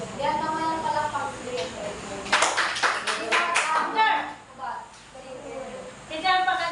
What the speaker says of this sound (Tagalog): Yan naman yung palakpak.